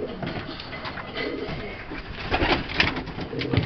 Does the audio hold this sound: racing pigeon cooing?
yes